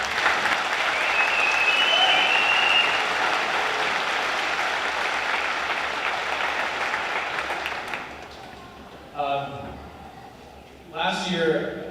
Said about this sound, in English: I think we need to give all of you that are in here a round of applause